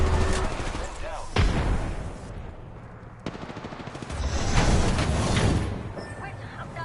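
Gunfire rattles in a shooter video game: loud sharp shots and bursts, including a few distinct cracks, punctuate the stretch while a player talks over the action.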